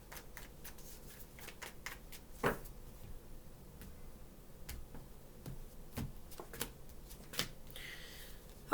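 Tarot cards are shuffled in quiet bursts, soft riffles and sharp taps of the deck repeating at irregular intervals, close up with no talking.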